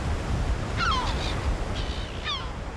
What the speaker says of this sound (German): Dafür krachen die Wellen dort ungebremst auf die Küste, mit der gesamten Kraft des Nordatlantik im Rücken.